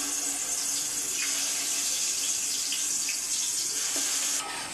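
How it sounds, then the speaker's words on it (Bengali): Water drains steadily from boiled rice being strained for chicken biryani, a continuous close splashing rush that cuts off near the end. "নামিয়ে ঝরিয়ে নেব এই ভাতটাকে"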